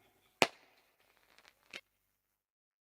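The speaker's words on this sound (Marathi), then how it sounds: "फटाक्यांची आतषबाजी" Firecrackers go off during a fireworks display at a village cricket tournament: one sharp loud bang, a scatter of faint crackles, then a second, smaller burst, with quiet in between.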